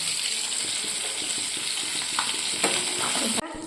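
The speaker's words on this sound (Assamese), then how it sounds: "মোৰ মাছ ফ্ৰাই হৈ গ'ল" Fish frying in a pan for a morning meal gives a steady, close hiss and sizzle with faint stirring clinks, ending in a brief clatter as the sizzle dips.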